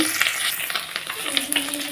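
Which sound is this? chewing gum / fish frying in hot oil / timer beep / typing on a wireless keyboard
fish frying in hot oil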